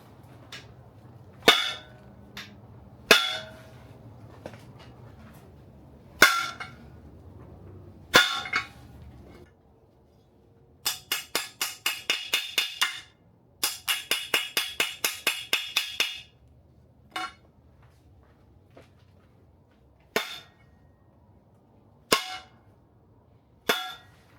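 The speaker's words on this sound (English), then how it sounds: "I'm going to smack it with the sledgehammer a little bit, see if I can crack the weld." A sledgehammer strikes the weld of a three-piece wheel, giving sharp metallic clangs spaced a few seconds apart, with two long bursts of rapid ringing blows in the middle before single strikes resume.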